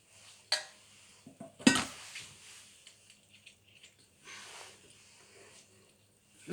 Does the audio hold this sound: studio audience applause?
no